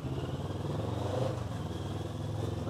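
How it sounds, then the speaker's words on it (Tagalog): Steady roaring wind buffets a motorcycle helmet while riding, with low engine rumble beneath and a constant dense rush, close and fairly quiet. "na-amplify actually yung tunog ng hampas ng hangin sa helmet."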